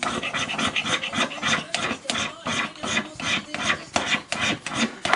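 Magnesium fire starter block being scraped into shavings, a dense run of rough rasping strokes up close, steady and repeated with no talk.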